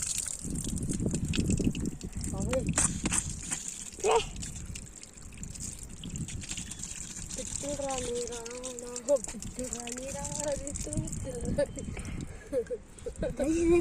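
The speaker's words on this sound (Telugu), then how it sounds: "వాటర్ అయితే చూడండి ఎలా వస్తుందో" Water trickles and gushes steadily in the background at a railway setting, partly masked by people talking loudly over it.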